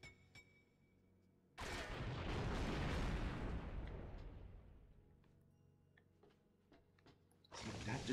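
A grenade blast in the video game 007: Agent Under Fire erupts in a single loud boom that decays over several seconds, followed by a second burst starting near the end.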